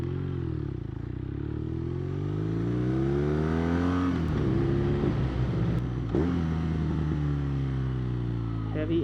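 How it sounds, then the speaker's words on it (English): A 2016 BMW R nineT motorcycle engine braking hard, its loud, steady engine drone falling in pitch as the bike slows, with rushing wind noise and a couple of brief knocks partway through. "Heavy engine braking."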